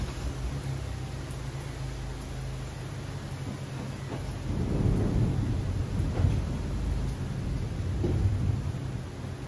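A thunderstorm rumbles with low, rolling thunder over a steady hiss of rain, and the thunder swells midway before it fades. No one speaks.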